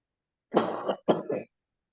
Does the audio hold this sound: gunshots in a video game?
no